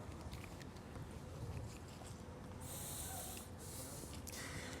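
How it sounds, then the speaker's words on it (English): Two short bursts of hissing car detail spray stand out against a steady low background rumble, with no talking. "See our detail spray and just give it light spray."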